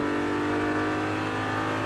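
A Ford Mustang and a Corvette race wheel to wheel at Watkins Glen, engines roaring in a continuous loud, steady drone through a tight right-hander braking zone, with no voices over it.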